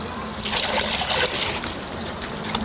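Water trickles and splashes steadily as it is poured into macaque feeders at a zoo, moderately close, with faint bird cooing in the background.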